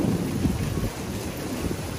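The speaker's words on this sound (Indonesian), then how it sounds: "Oh, hujan lepas" Steady rain pouring outdoors, a continuous broadband hiss with low rumbling wash, heard alone and fairly loud for the whole stretch.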